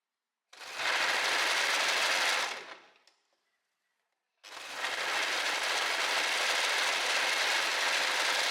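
Sewing machine stitching closed the sleeve of a homemade surf swimsuit: a loud, steady mechanical run of about two seconds, a pause, then a second continuous run of about four seconds, close and with no talking.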